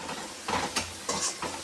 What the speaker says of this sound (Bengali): কচু পাতাটা দিয়ে দেবে এর মধ্যে।